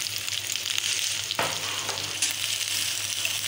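Green chillies and cumin frying lightly in a pan make a steady, close crackling sizzle with a few brief louder pops and no talking.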